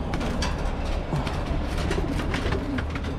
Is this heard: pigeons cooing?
yes